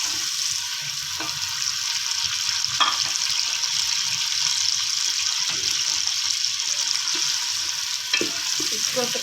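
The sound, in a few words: ginger frying in a pan for chicken korma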